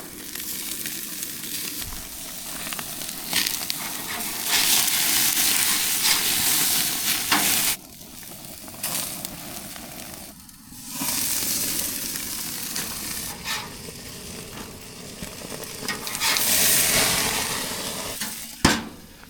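Homemade cheeseburgers frying in a hot pan for a late-night dinner, a continuous loud sizzle with crackling bursts and occasional utensil clinks, swelling and easing over time.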